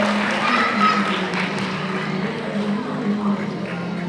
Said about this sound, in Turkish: Alkışlarla yolcu ediyoruz.